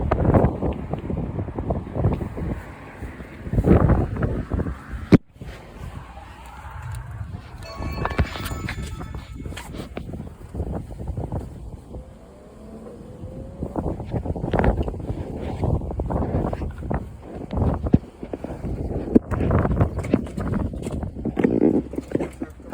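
Wind blowing outdoors on a cold evening during a heating service call, buffeting the microphone in uneven gusts and low rumbles, with scattered knocks and footsteps.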